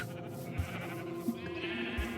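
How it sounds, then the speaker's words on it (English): A Minecraft sheep bleats faintly a few times, short wavering calls over a quiet game background, with no one speaking. "Say hello to the weird looking sheep."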